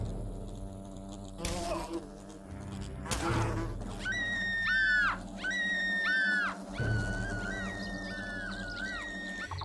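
Wasps buzzing in the video game Fable: close, wavering insect drones that rise and fall in repeated bursts over a low ambient hum, with no voices.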